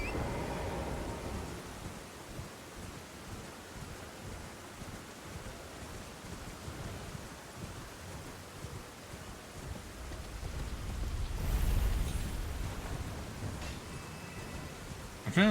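Rain in the video game Elden Ring: a faint, steady hiss of falling rain that swells briefly toward the end, with no voices over it.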